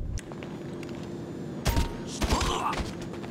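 Suppressed gunfire in the video game Grand Theft Auto 5: a few muffled thumping shots in a short cluster over a steady game background hum, fairly quiet and unaccompanied by talk.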